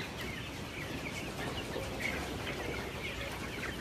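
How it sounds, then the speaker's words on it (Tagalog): Faint chickens cluck softly in the distance over a steady hiss of background noise, with no talking, on an egg farm in San Jose, Batangas. "Istorbohin natin ang mga manok."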